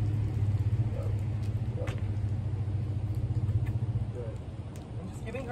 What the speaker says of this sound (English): My neighbor's pulling up in his truck right now.